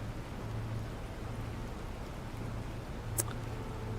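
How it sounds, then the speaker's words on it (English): Steady, faint rain hiss falls without pause on a planet in the survival game Planet Crafter, with one brief sharp tick near the end. "It's raining. It's miserable."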